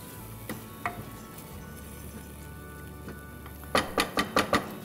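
Spices sizzling in a pan in a home kitchen for corn pulao, a soft steady hiss followed by a series of sharp spattering crackles as a little water is added.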